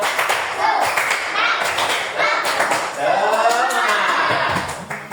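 A group of teacher-training participants in an Indonesian classroom performs a rhythmic 'tepuk semangat' clapping chant, with sharp, loud claps in a patterned beat mixed with chanting voices, close and lively.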